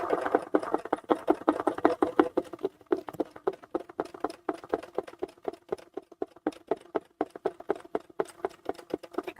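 A sewing machine stitches a mini quilt, its rapid rhythmic needle clatter running steadily and close, with a brief slowdown partway through before it picks up again.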